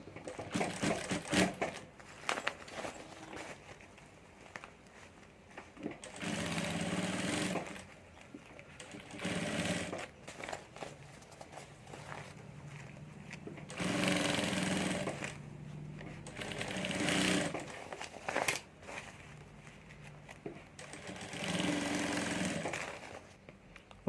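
A sewing machine stitches a fabric strip along the top of a handmade hand bag, running in several bursts of rapid mechanical whirring separated by quiet pauses.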